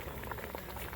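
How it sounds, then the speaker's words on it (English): Bitter goat soup, an Asian-inspired take on menudo, boils in a pot, giving a close, dense, continuous bubbling for about a second. "You gotta bring this back to a boil"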